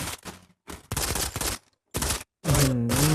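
Gunfire in Modern Combat 5, bursts of loud shots in several separate volleys broken by short silences, the last burst carrying a sustained tonal whine.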